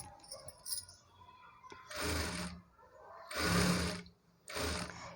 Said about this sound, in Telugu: అలానే నేను రెండవ సైడ్ హ్యాండ్ని కూడా ఇలా స్టిచ్ చేస్తున్నానండి.